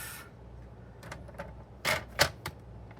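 A 6.5 by 6.5 inch sheet of olive cardstock is scored on a paper trimmer, giving a few short, crisp scraping clicks close by, the last two louder, with no talking.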